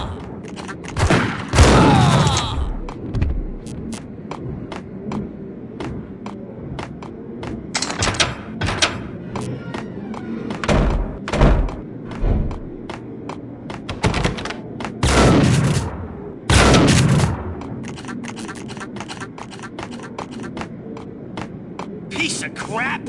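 Gunfire in the mobile shooter game Max Payne Mobile comes in loud, sharp bursts of rapid shots at irregular intervals, mixed with game voices and quieter gaps between the volleys.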